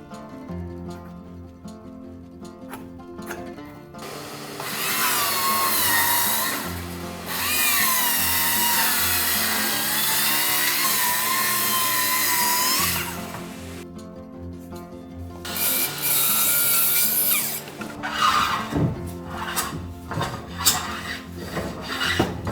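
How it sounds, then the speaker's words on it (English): A power saw cuts a cypress floorboard in two long, loud, rasping passes, then stops. Lighter scraping and handling noises of the wood follow. "I cut the first floorboard according to the plan."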